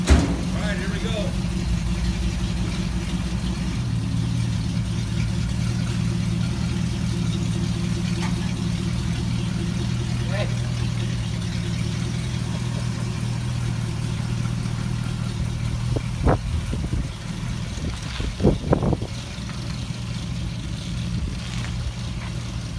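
A 1951 Mercury chop top lead sled rumbles steadily on its first drive, a continuous low engine drone holding throughout with a few brief revving surges near the end, with voices talking over it.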